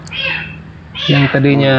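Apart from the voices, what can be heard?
cat meowing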